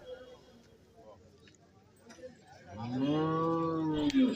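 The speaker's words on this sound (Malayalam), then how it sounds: "ചെറിയ പോത്തുകുട്ടികൾ ഇതാ ഇവിടെ നിൽപ്പുണ്ട്" Young buffalo calves at a cattle market, with one calf giving a loud, close, drawn-out moo near the end after a stretch of quieter market background.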